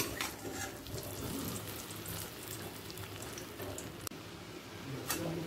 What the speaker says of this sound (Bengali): একটা পিঠ ভাজা হয়ে গেছে, অপর পিঠটা উল্টে ভেজে নেব